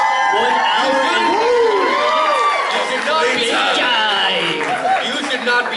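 Theater crowd at a cosplay fan-fiction stage show cheers and whoops loudly throughout, with shouts, laughter and overlapping voices filling the room.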